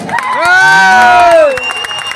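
A village crowd at a Malayalam film promotion for Rachel lets out a loud burst of cheering, with shouts and whoops over clapping. The burst swells and then fades within about two seconds.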